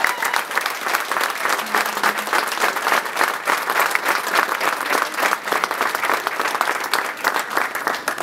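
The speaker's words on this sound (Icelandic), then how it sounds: "Og ég held að veitum að gefa bara öllum gott klapp." An audience at a welcoming event for youth national basketball teams gives sustained, loud applause, a dense wash of many hands clapping continuously without pause.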